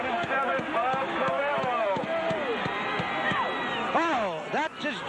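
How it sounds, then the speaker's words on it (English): A high school football crowd roars loudly and continuously after a long breakaway run by number 27 during a 1996 Super Bowl game between Hull and Bishop Fenwick, with a commentator talking excitedly over the noise. "Oh, that just electrified the crowd that time."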